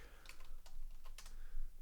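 Quiet, soft keystrokes on a computer keyboard, a few scattered taps over a couple of seconds with no voice.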